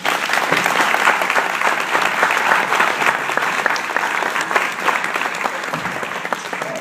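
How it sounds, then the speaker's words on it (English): An audience at a Pay it Forward community brunch in Long Beach breaks into hearty applause, thick continuous clapping that stays loud and close before easing slightly toward the end. "let's give them a big round of applause"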